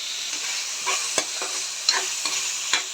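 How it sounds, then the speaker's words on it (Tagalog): Pork fat sautéing in a pan while laing, taro leaves cooked in coconut milk, is being prepared: a steady bright sizzle with intermittent stirring scrapes, close and alone. "At nagigisa tayo ng taba para sa laing."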